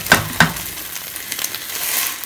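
Egg and mixed vegetables sizzling in a frying pan, a steady close hiss with two sharp utensil taps near the start, then continuous frying alone.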